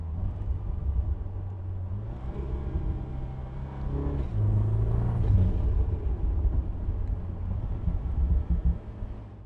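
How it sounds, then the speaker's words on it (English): A 2025 Morgan Plus Four with a BMW engine rumbles from inside the cabin, the engine note rising and falling through a downshift over steady road and wind noise. "Watch as I downshift. Oh, those noises!"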